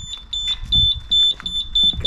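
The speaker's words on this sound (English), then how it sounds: "The alarm." An alarm beeping rapidly in a repeating series of short, high, shrill tones near a Harley-Davidson chopper, with voices talking loudly underneath.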